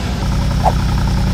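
A car engine idles with a steady low rumble close by, holding an even throttle throughout with one brief soft bump midway and no talking.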